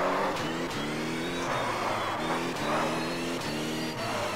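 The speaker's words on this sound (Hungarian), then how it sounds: "Megy az autó." A virtual Opel Astra's engine drones and revs continuously in the Rally Factor racing game, pitch climbing then dropping repeatedly through gear changes, loud and steady without pause.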